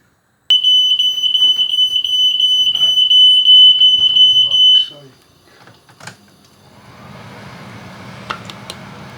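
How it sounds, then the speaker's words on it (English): A home smoke alarm beeps in a rapid, steady high-pitched pattern for several seconds while cooking, then stops, leaving quiet room noise and a few faint clicks. "So you might have just heard my smoke alarm going off"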